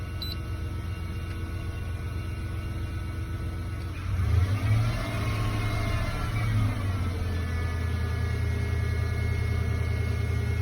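A 1993 Ford F-150 engine idles steadily, then is revved at full throttle, the pitch rising and holding a higher drone before settling; close, with no talking.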